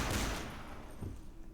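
Gunfire from the video game Codename CURE comes in a short, loud burst of shots at the start, with a second smaller burst about a second later, then fades.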